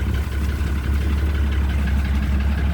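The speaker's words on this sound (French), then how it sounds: "Je vais me placer dans mon tracteur," Tractor engine idling: a steady low throbbing rumble, close and unbroken for the whole stretch, with no talk.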